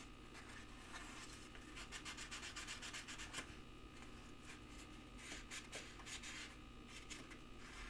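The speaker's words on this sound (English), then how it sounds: "I'm going to go ahead and sand all the other surfaces at that 600." Steady back-and-forth rubbing of 600 grit sandpaper across a finished surface, a continuous close scratchy hiss with rhythmic strokes, no talking.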